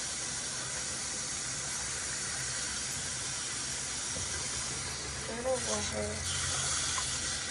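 Steady running water hisses from a tap while a dog is being bathed, continuing unbroken throughout at a moderate level, with a few spoken words near the end.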